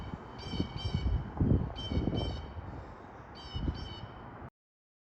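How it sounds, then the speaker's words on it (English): Crows caw outdoors on a summer morning in repeated bursts of three or four harsh calls. They are moderately close, over a steady background of wind or ambience. "the birds are going crazy"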